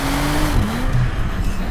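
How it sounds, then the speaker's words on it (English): Bentley Mulliner Bacalar driving at speed, its exhaust giving a loud, continuous engine drone with a shifting, falling pitch and a few brief crackles, close and steady throughout with no voices. "you hear so much more from the exhaust. There's pops and cracks, not in a predictable way."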